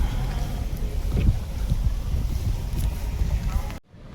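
A breezy day's wind rushes steadily across the microphone during travel, a constant broad roar that cuts off abruptly near the end.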